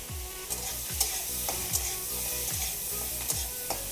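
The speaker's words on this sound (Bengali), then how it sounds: "চিংড়ি মাছগুলো আমি ভাজছি।" Prawns frying in a pan for a Bengali jute leaf prawn curry, a continuous sizzle punctuated by regular scraping stirs about every half second, close and clear, with no voices.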